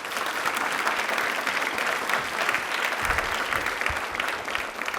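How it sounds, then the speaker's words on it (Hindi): Studio audience at a general knowledge quiz show bursts into steady, dense applause, a continuous wash of many hands clapping loudly throughout with no break. "तालियां प्लीज एक बार जोरदार हो जाएं"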